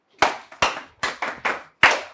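A few people in a school class clap briefly for a classmate who has just introduced herself, six distinct bursts of handclaps at an uneven rhythm, close and fairly loud with no voices over them.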